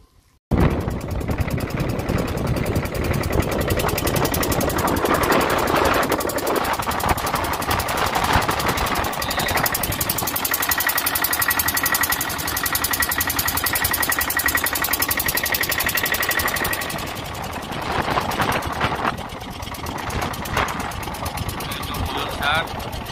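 A motor boat engine drones loud and steady on a river crossing for the daily school trip, a close rattling hum that runs almost the whole time and eases slightly near the end.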